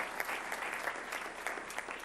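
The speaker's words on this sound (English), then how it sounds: "Can we give these young men and women, their families and community, also a big round of applause?" Quiet, distant-sounding applause from an audience at a school board meeting, a continuous soft rattle of clapping with a few slightly louder claps, steady across the short stretch.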